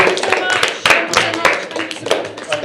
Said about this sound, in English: Let's all stand up and clap for the ladies.